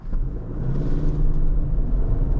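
Lifted 2021 Subaru Forester pulling away from a standstill, heard from inside the cabin as a loud low engine rumble that swells and holds steady, with no voices.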